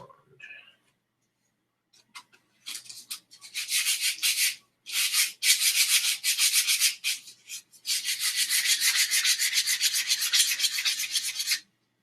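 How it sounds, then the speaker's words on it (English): A handmade wooden wand is rubbed with sandpaper, making close, dry rasping strokes that come in rapid bursts with short pauses between them, then settle into a long continuous stretch of sanding. "there should be enough sandpaper to finish this here wand"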